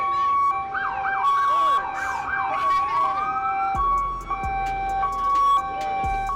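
A police car siren in St. Louis cycles through fast rising and falling yelps, then a long sweep, followed by steady blaring tones and sharp electronic blasts, loud and close.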